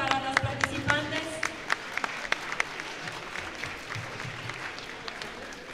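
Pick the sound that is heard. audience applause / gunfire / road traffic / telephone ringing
audience applause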